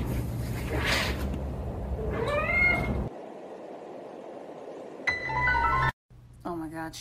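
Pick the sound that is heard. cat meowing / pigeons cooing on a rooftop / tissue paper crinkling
cat meowing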